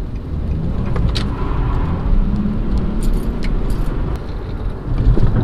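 A Volkswagen Bus drives along a road, its engine and road noise a steady loud rumble from inside the vehicle, with a few faint clicks and rattles.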